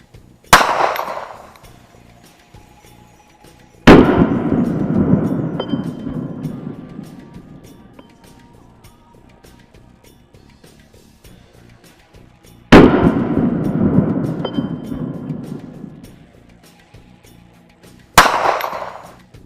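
Four loud, sharp gunshots ring out at a target, spaced several seconds apart, each a close crack followed by a long ringing decay.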